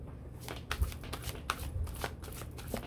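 Tarot cards being cut and shuffled close by, a quiet run of soft riffling flicks and light taps with no voice.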